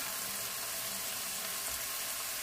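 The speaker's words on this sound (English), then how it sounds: "We're going to add our veggies and saute" Mixed vegetables sauteing in a pan for wild rice and mushroom soup, a steady, soft sizzle that hisses evenly throughout with no voices.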